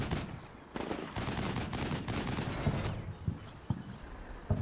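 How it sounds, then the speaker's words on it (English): Gunfire in the tactical war game Combat Mission Shock Force 2 during an ambush near a city: rapid bursts of automatic fire and scattered shots over a fairly distant, noisy backdrop. "There is some return fire"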